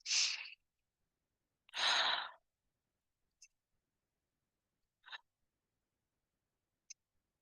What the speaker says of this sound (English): Take in 3 deep, slow breaths.